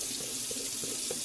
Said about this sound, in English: So let's come over to the sink. Get my water hot here